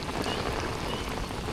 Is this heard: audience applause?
no